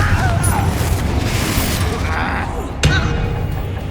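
Confringo, the explosive blasting spell in Hogwarts Legacy, lands as a dull booming thud among rumbling combat noise, with a sharper crack of impact near the end.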